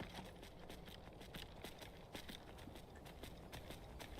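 Horse hooves clip-clopping at a steady riding pace in Skyrim, a continuous rhythmic patter of footfalls moderately close against an ambient game background.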